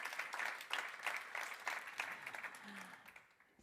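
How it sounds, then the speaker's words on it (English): Audience applause at an annual general meeting, a steady patter of many clapping hands, fairly faint and distant, tapering off toward the end. "I think we can applaud Anna Choric and Adia Kebe."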